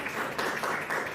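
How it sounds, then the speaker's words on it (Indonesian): A brief burst of classroom applause after a student presentation, a dense wash of many hands clapping at moderate volume. "Tepuk tangan."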